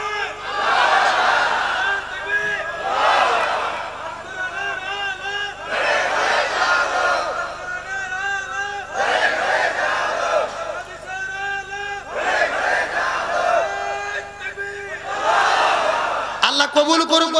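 A large crowd at an Islamic religious gathering in Bangladesh calls out takbir in loud repeated rounds, many voices chanting together in strong surging bursts that answer a lead call, with a hubbub of voices between the chants.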